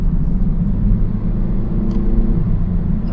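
A 2018 Kia Stinger 2.0T engine hums as a steady low rumble from inside the cabin while the driver changes gear with the paddle shifters, loud and continuous with no talking.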